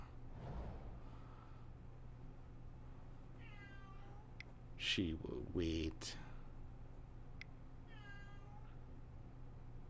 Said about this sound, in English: Now the cat wants back in.